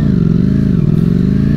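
A Ducati Streetfighter V4 motorcycle engine runs loud and close, a steady, dense mechanical drone with a rapid pulsing texture and no talking over it.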